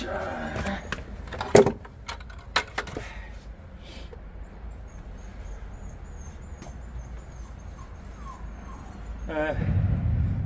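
A dog tied up in an alley during house waterproofing and painting work yips and whimpers, with a few sharp cries early on, then softer whining over steady outdoor background noise.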